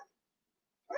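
A dog barks once, loud and close, at the very end, after near silence, behind a live election coverage broadcast.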